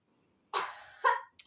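A child gives a short cough followed by a second, sharper one, close and fairly loud against a quiet background.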